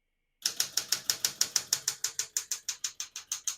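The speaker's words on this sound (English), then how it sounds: "I'll type a sentence in red on the next line." A 1972 Smith-Corona Sterling portable typewriter clacks through a quick, even run of about seventeen crisp keystrokes, close and alone.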